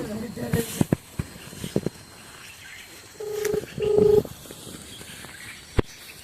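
A phone being dialed for a call sounds as a few short keypad tones, two of them steady beeps lasting about half a second each, over clicks and handling noises in a quiet room.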